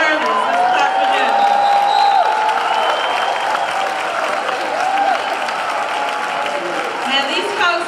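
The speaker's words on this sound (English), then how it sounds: "Let's clap for them." Room audience at a sales training event applauding military service members, sustained loud clapping with crowd noise and a few cheers and whoops, a voice speaking over it near the start.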